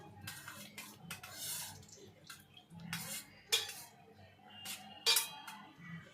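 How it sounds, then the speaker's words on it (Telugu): Freshly fried gulab jamun being stirred into sugar syrup, with soft clinks of a spoon against a metal pan and a few sharper scrapes over a quiet, low background hum. "గులాబ్ జామ్ అనేది చక్కగా ఫ్రై అయిన తర్వాత డైరెక్ట్గా పాకంలోకి వేసుకొని ఈ విధంగా మిక్స్ చేయాలి"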